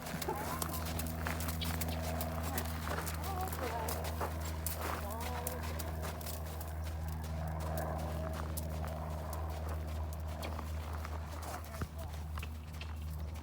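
Horses running loose next door at a riding arena, their hooves clip-clopping steadily and at moderate distance under constant background noise, with a person talking nearby.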